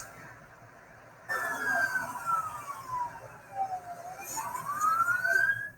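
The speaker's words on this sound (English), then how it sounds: "Squad cars, and a lot of them with lights and sirens" A Chicago police squad car siren wails in rising and falling sweeps, starting abruptly after a quiet second and continuing loudly over a low background rumble.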